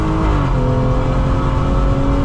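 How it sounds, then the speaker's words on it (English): A BMW M240i's turbocharged B58 engine drones steadily and loud from inside the car, a continuous surging hum with exhaust noise from boost being dumped, no voices. "You can hear it surging. It's dumping boost out the back."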